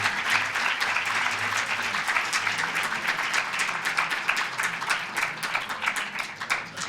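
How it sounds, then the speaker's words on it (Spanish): An audience applauding after a talk about Shakespeare, a dense, sustained clapping from many hands, loud and even across the clip. "Yo creo que vamos a darle un aplauso."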